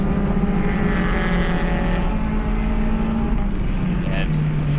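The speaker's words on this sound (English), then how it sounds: "that has the very typical sounding Subaru rumble from that four-cylinder Boxer engine" A Subaru FA20 four-cylinder boxer engine in a racing FRS car rumbles on track, a continuous loud droning roar held throughout without a break.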